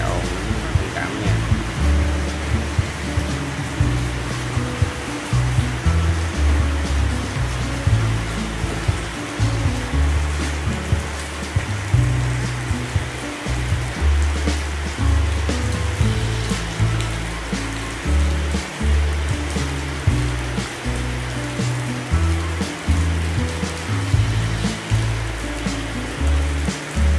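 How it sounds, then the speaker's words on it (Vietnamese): Rain falls steadily, a dense, noisy wash of drops that stays loud and unbroken throughout, with no clear talking heard. "Trời cũng mưa nha các bạn"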